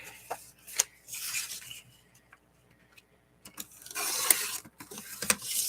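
Scissors or blade cutting out a paper piece for a Seussian journal: quiet close rasping, rubbing and snipping strokes in short bursts separated by near silence, with a few small clicks.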